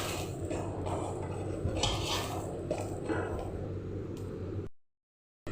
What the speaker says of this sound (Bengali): ভাজা হচ্ছে ভালো করে।